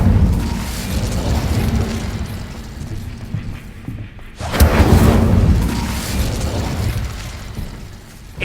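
A fiery Incendio spell blast in Hogwarts Legacy erupts with a loud, rushing burst midway through, swelling out of a dense, rumbling magical-combat backdrop before fading back into sustained noise.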